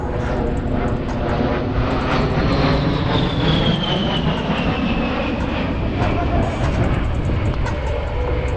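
An A-10 Thunderbolt II jet flies past at an air show, a loud sustained engine roar with a descending whine as it passes, heard near and steady.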